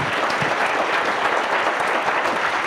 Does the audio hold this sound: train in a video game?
no